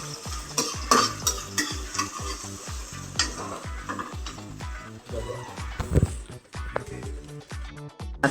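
Tomatoes, onions and bagoong are stirred together in a sizzling pan, with repeated scraping strokes of a utensil against the pan in an uneven rhythm over steady frying.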